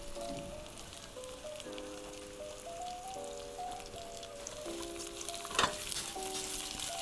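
King oyster mushrooms and cabbage fry with ginger in sesame oil, giving a steady, close sizzle throughout with a faint tune playing underneath.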